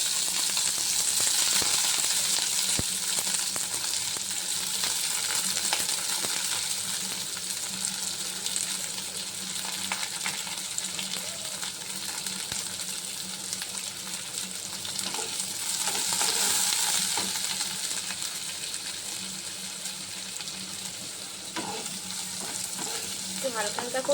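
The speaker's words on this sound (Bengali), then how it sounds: "এবার আমি ক্যাপসিকাম আর পেঁয়াজটা যে কাটা ছিল সেটা এবার দিয়ে হালকা নেড়ে ছেড়ে নেবো" Capsicum and onion sizzle and crackle steadily in hot oil for the whole stretch, with occasional scraping from stirring and a brief gush of tap water partway through; no one speaks.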